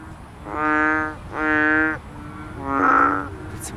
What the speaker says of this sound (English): It's several different frogs.